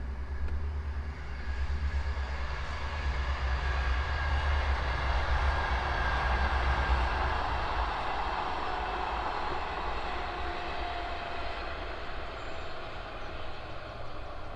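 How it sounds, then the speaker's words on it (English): A train passes beside a canal, a steady, continuous rumble of wheels and carriages lasting throughout, moderately close with no voices. "there's a train going past as well"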